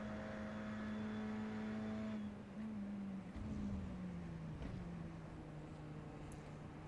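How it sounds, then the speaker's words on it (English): Radical SR10 race car in a racing video game at Road America, its engine holding a steady droning note that slides slowly lower as it winds through gears, heard alone with no talk. "I really like the engine sound on this."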